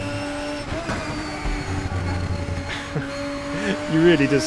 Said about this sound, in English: Flipping sounds on the downshifts, but again all through the rev range this thing sounds so nice.